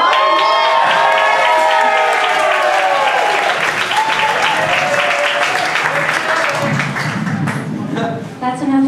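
Loud, sustained applause and cheering from a stand-up comedy club audience welcoming a comedian to the stage, dense clapping with whoops that fades slightly near the end.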